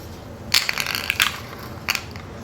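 Pipe for a rear pannier camera mount being cut into short pieces, heard as a few sharp, bright crunching and clanking bursts over a quiet background, with no one speaking.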